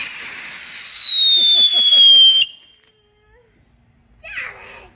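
A Fourth of July firework whistles in a long, loud, descending shriek with a few crackles, then cuts out to near silence before a fainter burst of noise follows.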